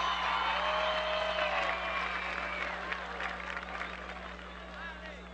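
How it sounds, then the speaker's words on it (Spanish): A political rally crowd in Nueva Esparta applauds children standing on a stage, clapping and cheering loudly at first and thinning gradually, with voices mixed in and a steady low hum underneath. "Un fuerte aplauso para ellos"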